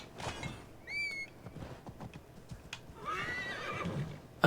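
A summoned horse in Assassin's Creed Valhalla whinnies loudly in a rising, wavering call, with hoof clip-clops and game ambience around it and a second neigh later on.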